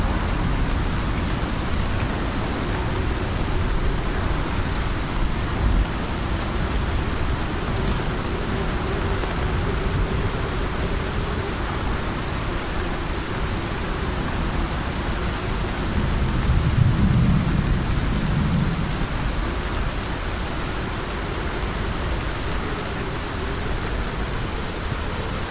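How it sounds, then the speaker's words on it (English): A video game storm fills the scene with a steady, loud wash of heavy rain, while a low rolling rumble of thunder swells midway through, with no voices. "Storms really are super loud."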